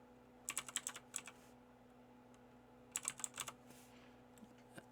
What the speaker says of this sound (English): So go ahead and type in an email address.